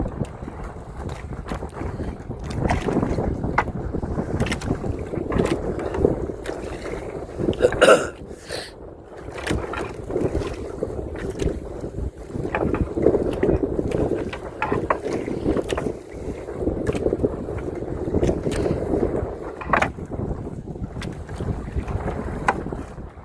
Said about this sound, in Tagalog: Malakas ang amihan.